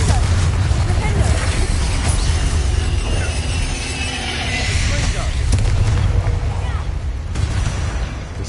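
Confringo and Bombarda spell explosions in the Hogwarts Legacy game, producing loud, rumbling blasts and fiery bursts that roll over one another without pause, with a voice calling out over the noise.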